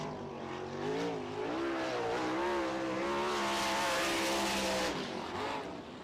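A winged sprint car roars through a qualifying lap on the dirt oval at Wilmot during All Star Sprint qualifying, its engine note rising and falling loudly and continuously as it passes through the turns.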